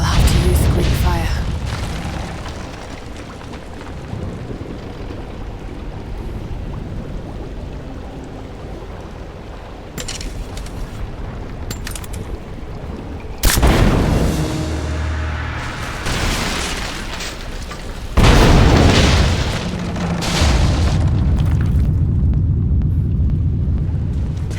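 A Greek fire explosion in the video game Rise of the Tomb Raider lands as a sudden heavy boom, followed by a roaring, crumbling rush and then a second loud blast over a steady rumble.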